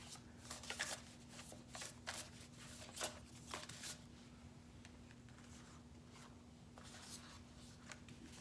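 Tarot cards are shuffled for a reading, making soft, faint, repeated riffling and slapping strokes in bursts, close by and with no voices.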